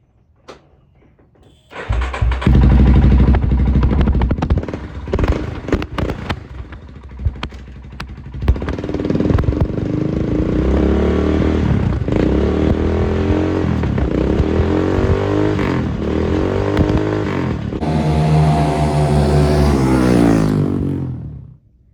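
A 1991 Yamaha Warrior 350 ATV with a newly replaced clutch starts with a burst of loud revs, then settles into a steady close idle and revs up again near the end.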